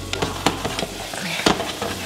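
Onions and garlic fry in a pan, a steady sizzle broken by sharp scraping stirs and spatters, close and fairly loud, with no voices.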